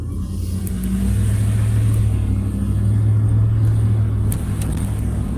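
Steady low engine rumble and road noise from a truck driving through the streets of Zittau, heard from inside the cab, loud and continuous with slight rises in engine tone, no talk.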